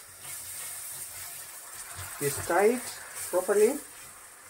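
Coconut cream is stirred into okra in a hot pan, giving a soft, steady hiss and sizzle under a person speaking briefly.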